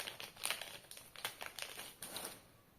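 Plastic packaging around a makeup brush crinkles and crackles in quick bursts close by as it is pulled open, with short pauses between the rustles and no talk over it.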